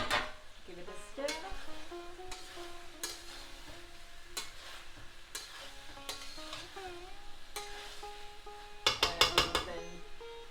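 Chopped coriander stirred into cooked dal and aloo gobi, heard as quiet spoon scrapes and taps against a pot over a faint simmer, ending in a quick cluster of sharper clinks.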